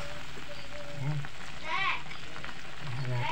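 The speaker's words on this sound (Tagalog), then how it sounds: "Ayan natin sa kumulo ng kumulo." Chicken feet boil in a pot with a steady bubbling, sizzling wash, close and moderately loud, with faint voices now and then.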